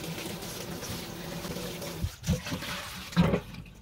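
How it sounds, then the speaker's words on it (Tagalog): Spinach is washed under running water, a steady trickling stream followed by a few uneven splashes and sloshes as the leaves are moved about, close by. "Hugasan muna natin, tapos babara natin ng mainit na tubig."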